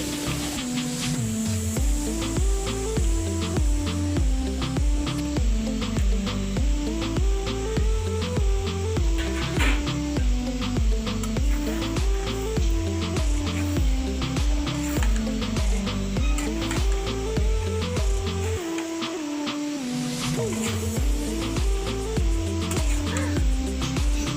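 Chicken pieces hit hot fried spice paste in a pan, raising a steady sizzling hiss that runs throughout, partly masked by continuous background music.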